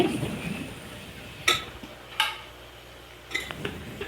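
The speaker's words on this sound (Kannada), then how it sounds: "ನಾನಿವಾಗ ಇದನ್ನು ಈ ರೀತಿ ಕ್ಲೀನಾಗಿ ಮಿಕ್ಸ್ ಮಾಡಿಕೊಂಡು ನಾನು ಇದನ್ನು ಒಂದು ಪ್ಲೇಟಿಗೆ ಸರ್ವ್ ಮಾಡ್ಕೊಳ್ತೀನಿ" Vegetable pulao is stirred and served onto a plate, giving a few distinct metallic clinks and scrapes of a spoon against a pot and plate over a soft background hiss.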